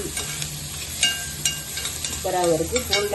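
Onions and black pepper frying in a pan for pumpkin carrot soup: a steady, close sizzle with bursts of stirring and scraping against the pan.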